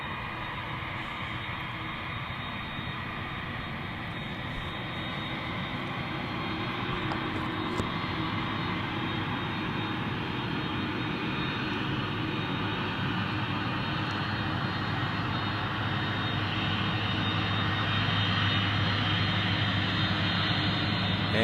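Airbus A300 jet engines roar steadily at a busy Memphis cargo airport, a broad continuous rumble and whine that slowly swells in loudness over about twenty seconds, with no voices.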